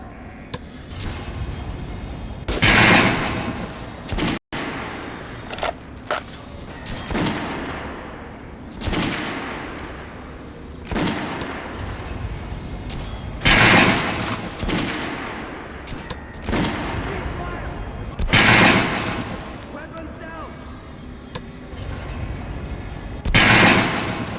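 Repeated bursts of gunfire in Metro Last Light Redux, loud volleys arriving in several waves separated by brief lulls, with no talk over them.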